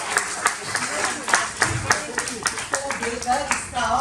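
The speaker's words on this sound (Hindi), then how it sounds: "जोरदार एक बार ताली से" Audience members clap in uneven bursts at a Hindi poetry recital in Chennai, with a voice speaking over the clapping.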